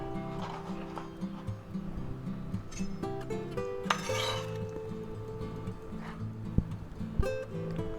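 Chopped green onions tipped into a bowl, with a continuous jumble of clinks, taps and scrapes of dishes and utensils, a few louder knocks standing out, close by in a kitchen.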